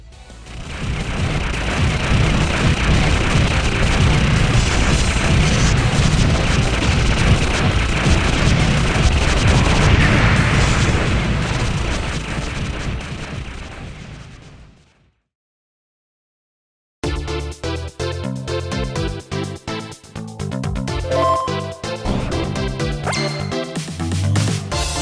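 Raiden IV Overkill, a shoot-'em-up video game, fills the first stretch with dense rapid gunfire and booming explosions, loud and continuous before fading out; after a brief silence, a different, more musical game soundtrack begins.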